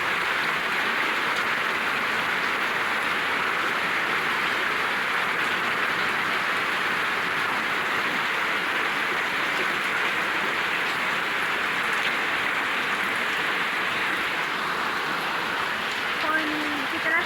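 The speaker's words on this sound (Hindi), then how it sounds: "पानी कितना तेज़ पानी गिर रहा है, इतनी तेज़ आवाज़, बहुत तेज़ आवाज़ आ रही है।" Heavy rain pours down outside, a dense, loud and unbroken hiss of falling water that continues evenly throughout at close range.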